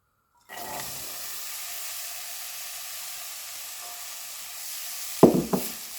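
Apples for apple pie egg rolls stirred in a pan make a steady, soft hiss and sizzle that runs evenly throughout, with a couple of sharper scraping knocks near the end.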